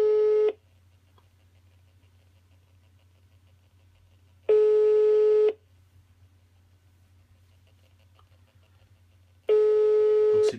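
A Linkcom iDP GSM intercom ringing tone sounds in three evenly spaced one-second beeps about five seconds apart, with a low hum between them.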